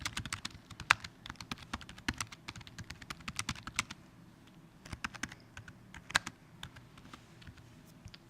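Quick, uneven typing on a computer keyboard as a short note is written, a steady run of close, light key clicks with a brief pause partway through.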